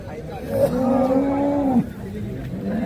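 At a busy cattle market, a cow lets out one long, loud moo that holds steady before cutting off, against a low background murmur of the crowd.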